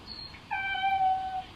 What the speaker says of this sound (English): Today's the first day that he's sitting by the windows and meowing.